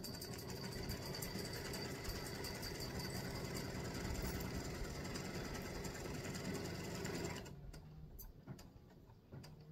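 A sewing machine runs in a steady, continuous whir as it stitches each square of a tic tac toe board, loud and close for most of the stretch before the motor stops and only faint ticks and handling remain.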